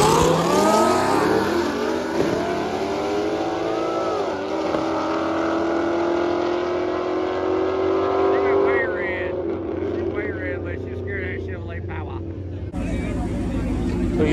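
Drag racing Ford Mustang and Audi at Shadyside Dragway test and tune: loud, sustained engine roar with rising revs and shifting pitch, with voices faintly in the background.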